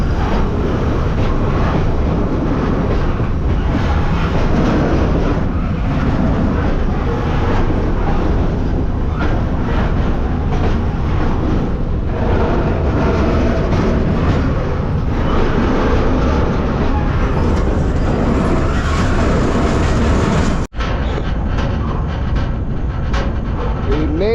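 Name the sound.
train passing on railway tracks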